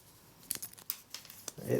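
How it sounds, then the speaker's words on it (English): Several crisp snips from the wire cutter of an 18-in-1 multitool cutting wire, a quick series of sharp cuts close up, followed by rustling handling. "the wire cutter seems to work pretty well"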